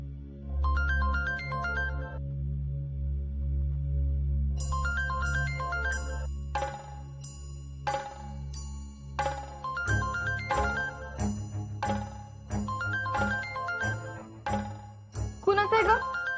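A mobile phone ringtone plays, a bright repeating melodic jingle in short phrases that pauses and resumes, close and clear, while people talk and background music runs beneath it.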